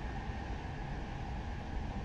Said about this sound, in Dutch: Andere kant komt nog een DDZ voorbij.